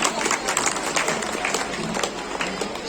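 A crowd at a state mini volleyball championship prize ceremony claps for an international-level player, a dense, steady patter of many hands at moderate distance with a little voice mixed in.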